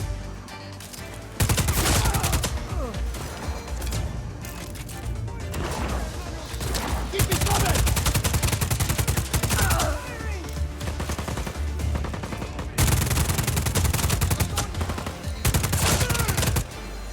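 Gunfire in the video game Just Cause 4 comes as loud bursts of rapid automatic fire broken by short gaps, with crashes and impacts mixed into the dense, continuous barrage.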